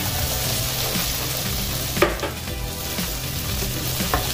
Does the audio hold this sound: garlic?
yes